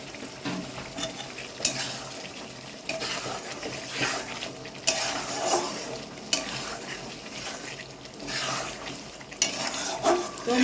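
Eggs are stirred into spinach masala in a pan for a Bengali-style palak egg curry: a soft sizzle under repeated spatula scrapes and clinks against the pan, coming in irregular bursts.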